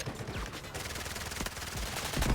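A continuous stream of close, rapid gunshots crackles in a Delta Force firefight, each shot closely following the last, with a few heavier thuds near the end.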